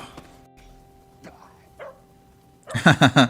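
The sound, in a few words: dog barking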